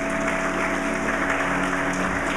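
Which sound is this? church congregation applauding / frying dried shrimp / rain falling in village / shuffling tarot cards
church congregation applauding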